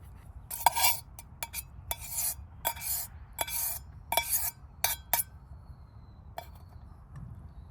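Metal utensils clink and scrape against a cooking pot and bowl as cooked food is transferred during ultralight backpacking cooking, a series of sharp, close, irregular clinks over a quiet background.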